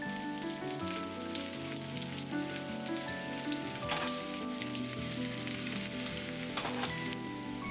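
Shallots frying in browning caramelized sugar for Vietnamese tapioca dumplings, a steady close sizzle and crackle in a hot pan with a few stirring clatters, no voices.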